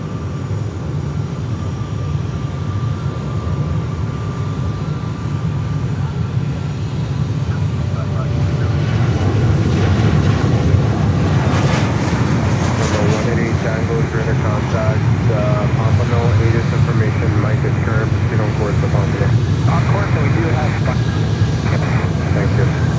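A Delta airliner's engines spool up at Fort Lauderdale airport, a steady broad roar that swells in pitch and loudness over time, heard from a distance outdoors, with a faint voice under the noise.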